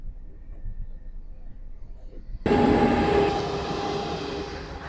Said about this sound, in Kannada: ಇವಾಗ ಒಂದು ಟ್ರೈನ್ ಹೋಯ್ತು